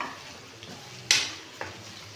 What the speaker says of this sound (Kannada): ಚೆನ್ನಾಗಿ ಫ್ರೈ ಮಾಡೋಣ.